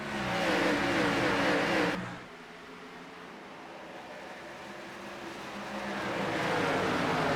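Race cars accelerating after a restart at Darlington in a racing game, a dense loud roar of engines that drops away abruptly, holds a softer rumble, then swells again, no voices.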